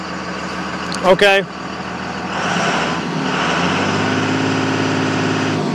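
A 2001 Dodge Ram 2500 with a six-speed and industrial Cummins diesel rumbles at a steady idle nearby, with a brief spoken word and a short high beep early on before the engine drone settles in.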